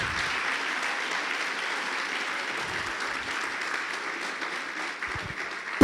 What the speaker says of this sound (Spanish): Alguien dele un aplauso fuerte al Señor en esta hora.